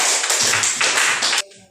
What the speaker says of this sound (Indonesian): Tepuk tangan untuk Ningsi dulu.